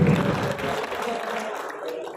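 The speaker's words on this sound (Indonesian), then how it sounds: "Tepuk tangan buat Mas Rahmadi dan Google-nya" Audience applause fills a seminar hall at a digital entrepreneurship event, a dense steady clatter of clapping that carries at a fairly even level for a couple of seconds, slightly fuller at the start.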